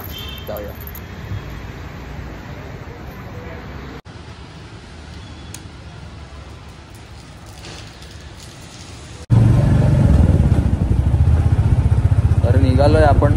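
A motorcycle ridden along a road on the way to a gym workout, engine rumble and traffic noise under wind, growing suddenly louder and closer in the final seconds, with voices present.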